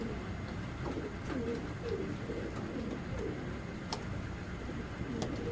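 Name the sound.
Giribaz pigeons cooing at a farm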